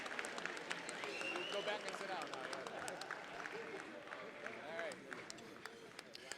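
Audience applause for past inductees at a 2022 induction ceremony, a steady wash of clapping from a large room that holds throughout, with a voice speaking over it.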